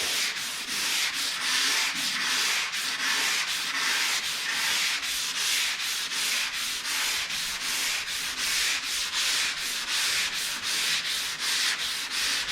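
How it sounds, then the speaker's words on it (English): Rhythmic back-and-forth sanding strokes on a primed Z28 car door, rasping and fairly loud, repeating steadily for the whole stretch with no talking. "this thing's sanding out beautiful."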